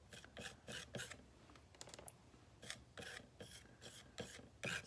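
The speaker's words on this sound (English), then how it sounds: "So I'm just kind of rubbing it on there." A palette knife scrapes and rubs paint across a surface for a mixed media heart, making repeated close rasping strokes in uneven bursts, some longer and some short, with no voices.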